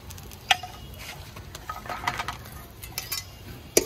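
Whole spices (bay leaf, black peppercorns, cloves, cinnamon and cardamom) are stirred in a pan with a utensil, giving sparse, faint metallic clinks and scrapes over quiet background.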